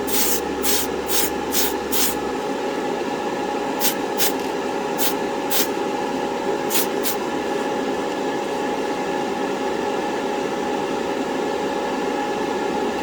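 An airbrush or spray can hisses steadily as paint goes onto the trunk lid of an AMT 1968 Corvair model car, with rhythmic short bursts of spray over a constant background hiss.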